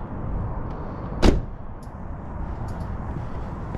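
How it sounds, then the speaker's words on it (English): Door locks on a Chrysler 300 clunk once sharply over a low idling engine hum inside the car, followed by faint light clicks. "Lock all the doors."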